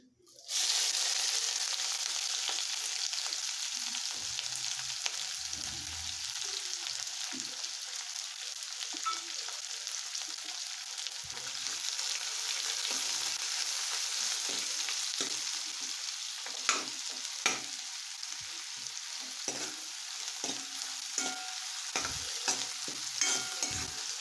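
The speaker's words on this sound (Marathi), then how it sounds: "कांदा आहे तो गोल्डन ब्राऊन कलर येईपर्यंत परतायचा आहे" Finely chopped onion fries in oil in a pan for palak paneer, a continuous close sizzle and crackle with occasional clicks of stirring, loud and steady throughout and with no talking.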